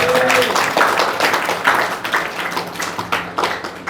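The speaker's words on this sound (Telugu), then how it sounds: "గట్టిగా చప్పట్లు కొట్టండి" A church congregation claps loudly together in a steady burst of hand claps, dense and close, continuing throughout the clip.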